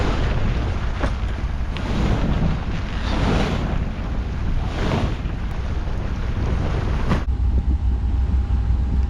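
Strong wind buffets and roars across the deck of a sailboat cruising along a coastal passage at sea, gusting in waves with water wash beneath, then easing abruptly near the end to a quieter hum.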